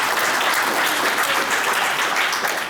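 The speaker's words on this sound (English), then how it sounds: "I think a warm round of applause for Lynnae." Warm audience applause at a conference workshop session, dense steady clapping throughout without a break.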